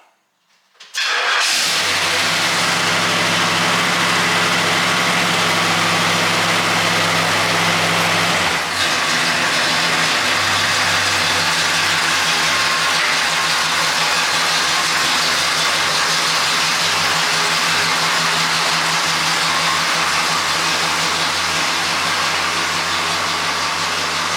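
A Pontiac GTO engine fires up from silence and settles into a loud, steady idle with a deep rumble, heard close and alone while the car is moved out of a garage.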